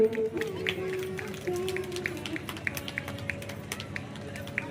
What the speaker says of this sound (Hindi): एक बार जोरदार अपने लिए तालियां बजाइएगा आप लोग।